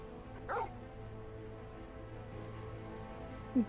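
Torgal, the dog companion in Final Fantasy XVI, gives a short bark early and another brief yip near the end, both over a steady low game hum with no talking.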